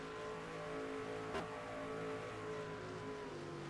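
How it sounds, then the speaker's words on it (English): A race truck engine in iRacing at Chicagoland Speedway drones steadily at high revs throughout, loud and close, with a brief sharp crackle midway and no talking. "Sounds like, yep, his engine noise."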